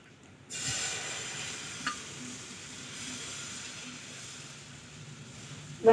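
Dosa batter sizzles steadily on a hot pan after being poured, a soft continuous frying hiss with a faint clink partway through and a sharper knock at the end.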